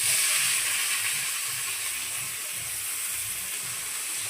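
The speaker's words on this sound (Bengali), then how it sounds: "তেলটা গরম হয়ে গেছে বলে আমি পেঁয়াজটা দিয়ে দিলাম আর ক্যাপসিকামগুলোও দিয়ে দিলাম" Onion and capsicum sizzling in hot oil in a pan, a loud, steady hiss and crackle close by, unbroken and alone.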